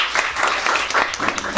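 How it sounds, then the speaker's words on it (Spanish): A short burst of crowd applause and clapping at a child's birthday party, fairly loud and dense, lasting under two seconds. "Aplauso para ella"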